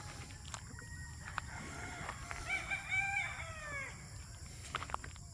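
Rooster crowing at a rural range, one drawn-out crow rising and falling in the middle of the stretch, moderately near, over a quiet background with faint clucks and a few sharp knocks.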